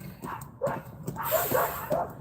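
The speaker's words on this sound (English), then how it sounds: "Somebody's dog is freaking out down the street." A dog down the street barks and whimpers in several short, excited yips and bow-wows, distant and moderately loud, repeating irregularly over a couple of seconds with no talk.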